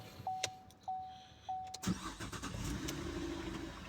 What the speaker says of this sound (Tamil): வண்டி ஸ்டார்ட் பண்ணிக்கலாம்.